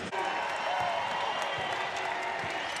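Crowd at an Arkansas State women's basketball game cheering and applauding during a timeout in a WNIT Great 8 matchup against Cleveland State, a steady, dense roar of many voices and claps filling the arena.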